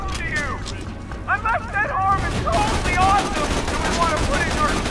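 Rapid gunfire from a hard-recoiling gun in a Borderlands-style shooter on True Vault Hunter Mode crackles in a dense, continuous burst, partly masked by excited voices talking over it.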